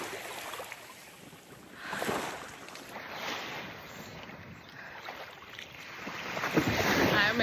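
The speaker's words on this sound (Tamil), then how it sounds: "நார்த்தன் பார்ட்டில் இருக்கிற பீச், பால்டிக் சி." Waves and wind at a beach on the Baltic Sea, a steady broadband wash with swells of surf rising and falling every couple of seconds, growing louder toward the end, with wind buffeting the microphone.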